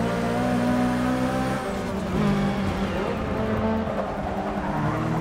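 Toyota 2014 race car in Forza Motorsport 6 Apex on the Red Heat circuit, its engine droning steadily throughout with a tire skid and squeal mixed in, loud and continuous from start to finish.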